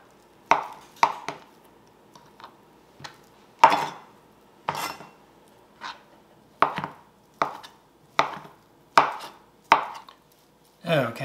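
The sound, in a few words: chopping Spam into cubes with a knife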